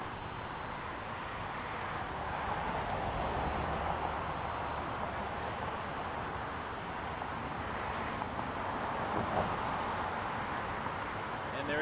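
Airliners at Toronto Pearson Airport at night, a distant steady jet engine rumble holding throughout at low level, broad and continuous with no distinct voices.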